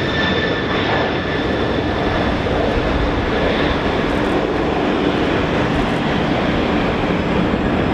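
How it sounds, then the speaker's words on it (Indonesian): A jet airplane roars loudly and continuously as it takes off, with a steady engine whine over broad rumbling noise. "Wow, ternyata ada pesawat take off"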